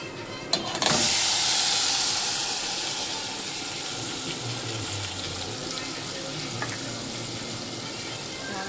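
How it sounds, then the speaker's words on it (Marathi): Eggplant dropped into a hot pan with turmeric and homemade ground spice masala, a loud burst of sizzle at the start that settles into a steady, close frying hiss with faint clatter. "आता वांगे टाकते."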